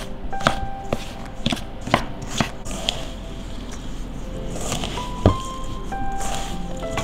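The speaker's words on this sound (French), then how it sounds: "Je mélange de façon à obtenir une pâte homogène" Pastry dough with egg and vanilla worked by hand in a bowl, close squishy, sticky kneading and slapping with sharp irregular taps and a steady soft rustle beneath.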